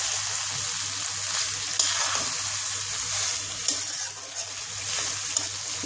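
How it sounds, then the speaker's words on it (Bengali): Beef tripe fries with spices in a pan over medium-low heat while being stirred, giving a loud, continuous close sizzle with occasional scraping strokes and no voices. "এবার আমি নেড়ে চেড়ে মিশিয়ে দিচ্ছি"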